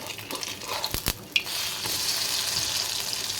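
Banana rice cakes (poa pitha) fry gently in oil, giving a steady soft sizzle throughout, broken early by a couple of sharp utensil clicks and small splashes.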